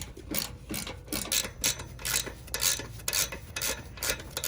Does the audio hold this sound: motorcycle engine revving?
no